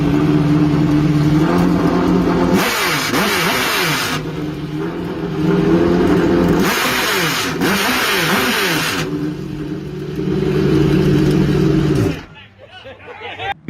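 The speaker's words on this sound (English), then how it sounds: "I'm going to put a clip in here for you just so you can hear what the V8 flat plane crank actually sounds" A Chevrolet Corvette C8 with a 5.5L flat-plane crank V8 revs loudly in repeated rising and falling surges of exhaust, holding a strong steady drone between pulls before cutting off abruptly near the end.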